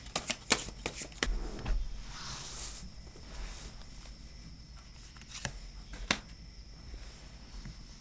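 Tarot cards are shuffled up close in a few quick riffling bursts, then a run of soft, sparse card taps and slides. The sound is fairly quiet and nobody speaks.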